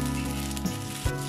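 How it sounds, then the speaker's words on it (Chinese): Brief, close sizzle of udon noodles frying in hot oil in a wok over low heat, a steady hiss broken by a soft bump as the noodles are shifted. "反转佢，煎"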